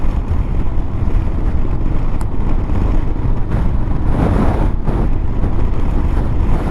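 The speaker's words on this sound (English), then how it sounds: "engine note wise, that's quite pleasing." A Honda CB500X motorcycle engine drones steadily while riding on the road, heavily mixed with loud wind rush, with no talking.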